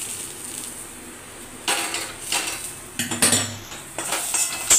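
Fried potato and pumpkin are tipped out of a pan with a run of metallic scraping and clinking of a utensil against the pan, several bursts spaced over a few seconds, close up and without speech.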